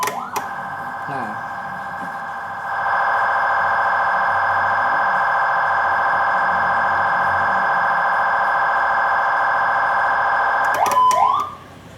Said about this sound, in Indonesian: suara pulsar ini ditunjukkan sebenarnya jikalau mobil ambulans sedang berhenti di pinggir jalan untuk menaikkan pasien